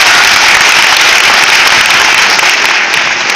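Loud, dense audience applause in a university hall welcoming a guest speaker, sustained at an even level and tapering slightly at the end.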